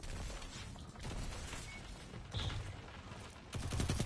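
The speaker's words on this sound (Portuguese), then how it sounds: "trocando um tiro com um cara lá embaixo" A gunfire exchange in a video game, with repeated bursts and single shots at moderate distance, separated by short pauses and ending with a louder volley near the end.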